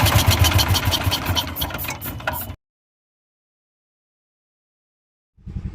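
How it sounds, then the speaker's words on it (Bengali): A repaired engine whose valves strike the piston runs with a rapid, rhythmic metallic clatter close by, then cuts off abruptly into silence before a brief restart of noise. "ইঞ্জিনটা যেরকম খ্যাট খ্যাট খ্যাট খ্যাট করে শব্দ করছে"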